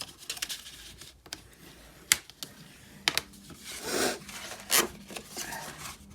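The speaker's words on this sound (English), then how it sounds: "Burnish it nicely." A burnishing tool rubs firmly along the folds of an acetate stepper card, a few scraping strokes with soft taps of the card on a tabletop, up close with no talking.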